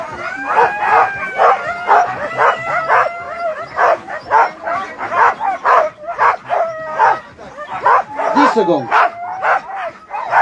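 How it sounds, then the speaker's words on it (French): Sled dogs bark, yip and howl at the start of a mountain race stage in the Giffre mountains, part of La Grande Odyssée Savoie Mont-Blanc. The chorus is loud, close and excited, with rhythmic bursts and a commentator speaking over it. "Écoutez ce chant, comme je dis, ce chant du chien."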